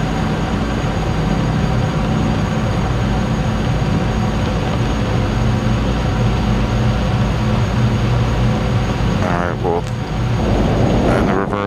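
Airliner thrust reversers deploying in the FSX flight simulator game, heard as a loud, steady, broad jet-engine roar that fills the whole stretch and shifts in tone near the end.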